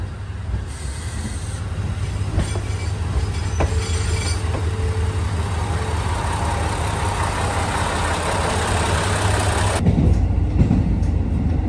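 A limited express train in Hokkaido, Japan rolls along the rails with a constant rumble, clattering wheels and a high squeal. The noise drops abruptly near the end, and no one speaks.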